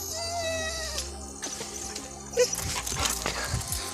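A dog makes short sounds with a sharper yelp midway, heard over a busy, noisy background.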